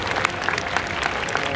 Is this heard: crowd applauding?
yes